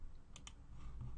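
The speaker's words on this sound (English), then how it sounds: "and then I type in the page name" A web page name typed on a computer keyboard: two quick, light keystrokes in the middle of a quiet moment, close up against a soft background hum.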